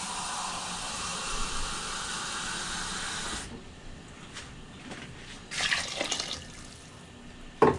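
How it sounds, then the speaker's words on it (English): Water pours steadily into a soup pot of sausage soup with a hissing rush for a few seconds, then stops, leaving quieter clinks and handling noises. "Let's add a little tiny bit more water"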